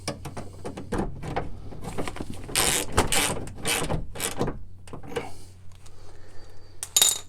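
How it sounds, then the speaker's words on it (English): Bottom bolts being fastened on a car's power window regulator, heard as close metallic ratcheting clicks and clinks in quick irregular bursts, a few sharp knocks mixed in, with no talking. "fasten these bottom 2 bolts"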